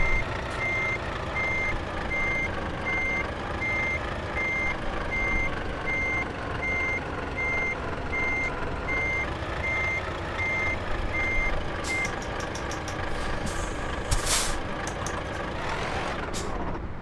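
A truck's reversing alarm beeps steadily in Euro Truck Simulator 2, a regular repeating tone over a constant low engine rumble, with a hiss like an air brake near the end.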